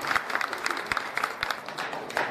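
An audience at a Telugu padya natakam drama performance applauding, a steady patter of many hands clapping at moderate distance, fairly even in level throughout.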